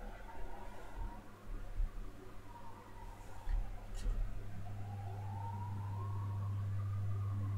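An ambulance siren outside wails in a rising and falling sweep, growing louder and more prominent toward the end over a steady low rumble of traffic.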